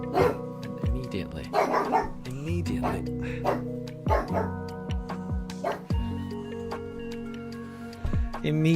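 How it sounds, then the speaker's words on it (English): A dog indoors barks repeatedly in short, loud yips and bow-wows, close by, with a person talking over it between barks. "Immediately, Daruk starts barking."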